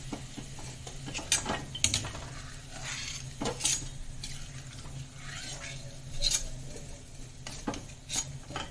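A utensil scrapes and clinks against a pan in uneven strokes, stirring namak paare and shakkar paare snacks over a soft frying sizzle, up close.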